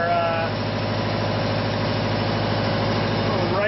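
ReGen-X electric motor running steadily at 770 RPM on 100 volts input, a constant dense hum and whine with rhythmic mechanical pulsing that holds at an even level throughout.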